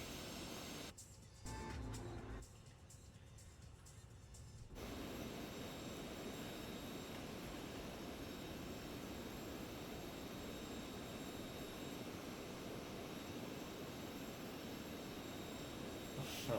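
Citation Sovereign+ business jet taxiing at a small airport in a flight simulator game, a steady loud engine whine and rumble that holds for the whole stretch after a brief dip near the start.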